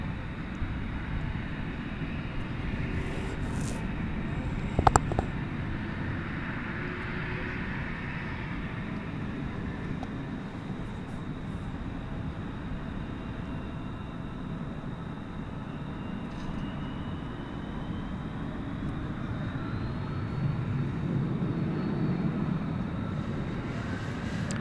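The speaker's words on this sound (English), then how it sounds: "American Eagle 4273, has received clearance to take off to Wichita" An American Eagle Embraer 175 regional jet taking off at night from Dallas Fort Worth Airport, a steady distant engine rumble holding low and even, with a brief sharp click near the start.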